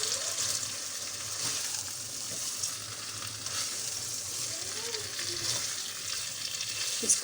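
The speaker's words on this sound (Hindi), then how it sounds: "अब इसको हल्के से हिलाएंगे हम।" Chicken karela sizzles steadily in ghee in a pan while a spoon stirs it gently, a continuous close frying hiss with soft scraping.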